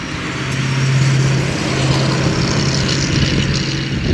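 A 1939 Horch 854 Special Roadster's engine runs steadily with a low, smooth hum and faint wind noise, close by and unbroken, with no voices.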